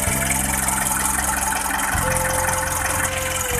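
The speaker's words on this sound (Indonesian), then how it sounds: "Ini mesin sudah jadi, siap untuk jalan." A Mitsubishi L300 with a 4D56 diesel engine idles steadily after a workshop service, a loud, close, continuous rumble with an even low throb and no talk.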